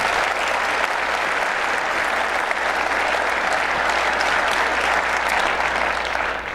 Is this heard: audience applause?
yes